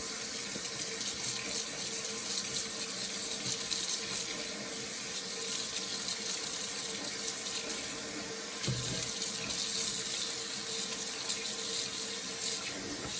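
A kitchen tap runs water over alfalfa and arugula sprouts in a bowl, a steady close hiss and splash of flowing water lasting throughout with no voices.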